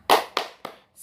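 Three distinct hand claps in a slow, slightly uneven rhythm during a classroom cheer, close and crisp, with a brief pause after each.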